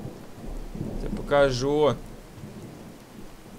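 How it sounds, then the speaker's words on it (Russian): Rain and rolling thunder in the horror video game Boogeyman: a steady patter with deep rumbles, and a voice speaks one short word over it. "Во-во, видите, даже уже дождичек идет"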